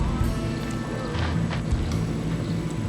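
A horse shifts and steps its hooves while being packed and cinched outdoors, irregular thuds over a constant background rumble, with no clear talk.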